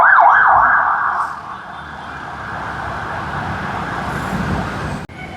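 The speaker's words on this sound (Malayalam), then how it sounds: "ആംബുലൻസ് ഒരെണ്ണം ചീറിപ്പാഞ്ഞു പോകുന്നു." An ambulance siren wails loudly at first with a rising-falling pitch as it speeds past through Palarivattom Junction in Kochi, then fades into a steady traffic rumble as the vehicle moves away.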